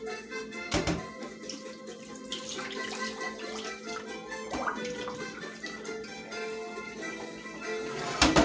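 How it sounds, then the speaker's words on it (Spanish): Water is poured off a cooking pot in a home kitchen while making plantain pastelón with ground beef, a fairly quiet splashing stream over other background sounds. "Déjame botarle un poquito el agua."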